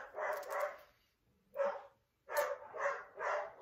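Dogs bark outdoors in short bursts, a couple of quick barks followed by a pause and then three more in steady succession, fairly close and clear with no talking over them.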